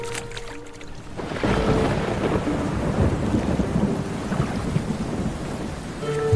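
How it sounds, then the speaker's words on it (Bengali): Heavy rain and rolling thunder on a swollen monsoon river carrying a small boat, a loud steady downpour hiss that starts after a second and continues alone. "মেঘ করে মুষলধারে বৃষ্টি আরম্ভ হল।"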